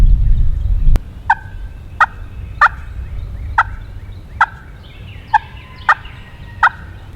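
A hand-operated turkey call plays a cluck cut into a short yelp: after a single sharp knock comes a steady series of about nine clipped, evenly spaced two-note yelps, loud and close.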